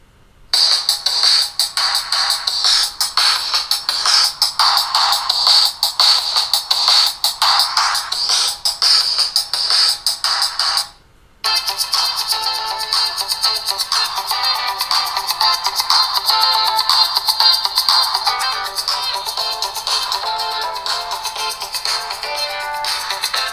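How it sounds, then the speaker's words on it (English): Music plays through the bottom speaker of an Allview X4 Soul Infinity Plus phone, thin and bright with little bass, loud and continuous apart from a brief gap near the middle. "listen to some tunes and judge them, and judge the speaker at the bottom of the phone"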